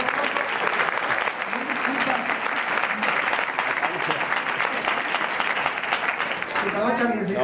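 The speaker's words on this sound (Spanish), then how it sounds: "Un aplauso para Charlie" An audience bursts into dense, sustained applause for a performer, clapping filling the room at a steady level throughout, with voices heard over it near the end.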